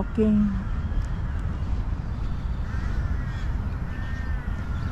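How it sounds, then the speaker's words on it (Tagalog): Crows in Lumpini Park, Bangkok, let out a quick series of harsh caws at the start, then fainter calls follow over a steady outdoor park hum, with a person talking at times. "Ang daming uwak."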